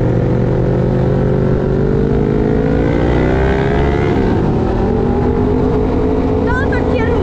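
A Raptor engine drones loudly and steadily up close while riding through town, its pitch climbing and dipping gently as it revs.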